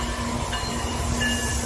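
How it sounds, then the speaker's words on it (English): BNSF freight train rolls past with a steady rumbling roar and faint metallic wheel squeal, continuous and moderately loud throughout, with no voices. "BNSF train."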